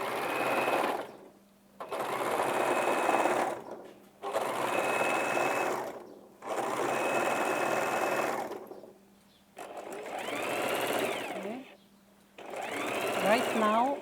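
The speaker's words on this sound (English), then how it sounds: "right now I'm gonna overlock the edge" Overlock sewing machine running along the edge of a shirt sleeve in bursts of steady whirring, five or six runs separated by short pauses, close and loud, with a faint hum between runs.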